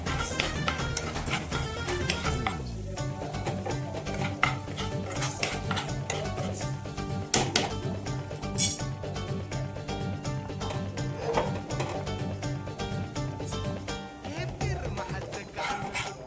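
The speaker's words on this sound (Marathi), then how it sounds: "सुरुवातीला ज्वारीचं पीठ भाजून घेणार आहोत. हे पूर्ण लाल होऊ देणार आहोत." Jowar flour dry-roasting in a pan is stirred steadily with a metal utensil, giving continuous scraping and clinking close by, loud and unbroken throughout.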